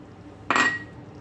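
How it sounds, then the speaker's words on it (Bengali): A metal lid set onto a pot of chicken curry gives one sharp, close clink with a brief ringing tail, standing alone against a quiet background. "এবার আমি লিডটা দিয়ে দিচ্ছি"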